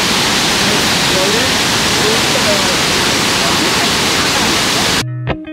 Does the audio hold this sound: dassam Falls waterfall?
yes